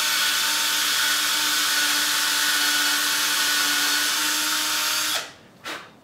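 A power drill whirs steadily for about five seconds while driving screws into 1.5 by 1.5 wooden boards for an art canvas frame, then stops and gives one brief burst, loud and close.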